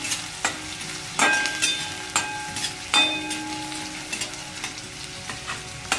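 Onion frying in a pan for tomato chutney: a steady close sizzle broken by several sharp scraping stirs of a spatula against the pan, with no talking.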